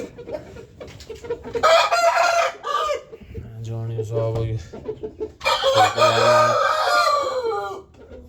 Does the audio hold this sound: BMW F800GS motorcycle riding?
no